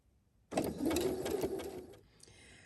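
A sewing machine runs a straight line of stitching alongside a zigzag stitch for a decorative pattern, whirring close and steady for about a second and a half before stopping, with no voices.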